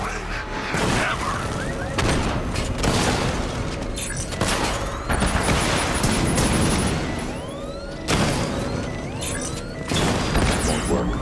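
Heavy booming cannon blasts and explosive bursts from the video game Batman: Arkham Knight, coming in loud clusters with brief lulls between, mixed with synthetic effects.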